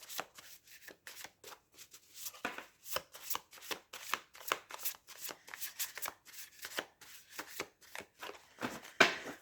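Tarot cards being shuffled for a reading, a steady run of quick, crisp riffling flutters repeating in close succession, fairly quiet and close, with no talking.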